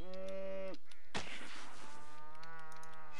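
A cow in RuneScape gives a drawn-out moo, then a sharp hit sound from an attack, followed by a second long moo, close and clear with no talk.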